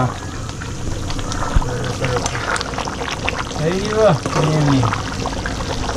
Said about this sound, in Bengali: ওহো পানিও দিয়ে দিচ্ছে দেখছেন